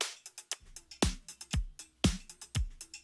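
A sampled drum break with its low end stripped out, leaving thin kicks and snares with busy hats and cymbals in a steady looping groove, close and dry, with no voices.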